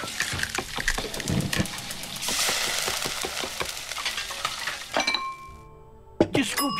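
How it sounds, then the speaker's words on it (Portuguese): Food cooking in the video game Resident Evil Village: a busy run of stirring, sizzling and clinking pot sounds that stops abruptly, followed by a bright chime and a brief clatter. "Vamos cozinhar."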